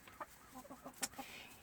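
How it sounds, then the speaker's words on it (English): An olive egger rooster clucking in a farmyard, a short run of soft, quiet clucks and chortles heard alone. "We bred and created our own olive egger rooster"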